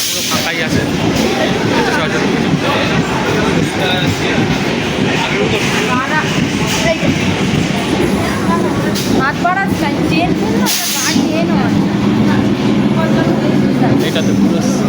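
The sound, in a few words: Sonarpur local train arriving at station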